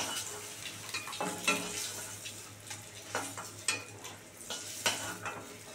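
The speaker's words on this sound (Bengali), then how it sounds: "একদম লাল করে ভেজে নেবো।" Eggs frying in oil in a pan for an egg and pointed gourd dish, a soft sizzle broken by several sharp scrapes and clinks of a spatula, close, with no voices.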